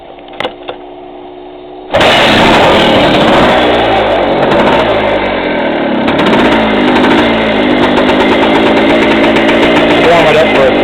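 A 1974 Yamaha TY250 trials motorcycle, a survivor garage find, fires up after a couple of faint kicks and settles into a loud, steady running engine with slight rises in revs, close to the microphone.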